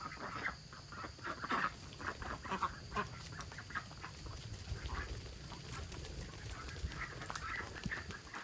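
Domestic ducks at a custom duck house calling in a loose flock, with repeated quacks and honks over a steady outdoor background, fairly faint and at middle distance, no talk.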